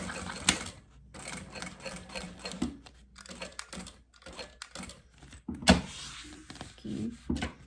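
Sewing machine stitching along the strap of a synthetic-leather travel case, running in several close bursts with short pauses, loud and near, with no voice.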